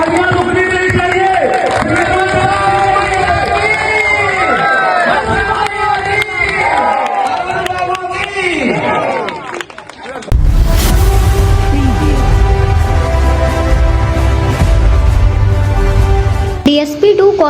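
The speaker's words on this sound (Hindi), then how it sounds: "तालियां रुकनी नहीं चाहिए।" A large village crowd claps and cheers loudly and continuously, with excited shouts over the applause, which then becomes a dense, sustained roar of clapping.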